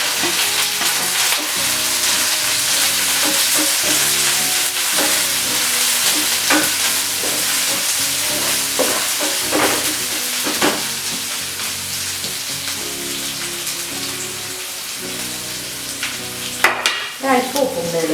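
Onion and garlic sauté with popping mustard seeds in hot oil, giving a steady, close sizzle with scattered crackles and occasional stirring scrapes, continuing without talk throughout.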